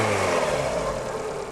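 A 1.4 MultiAir car engine revving steadily with a smooth mid-pitched whir, close and continuous for a moment.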